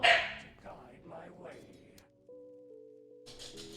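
A dog barks loudly in short bursts near the start, followed by softer yips and whimpers, with people talking over much of it.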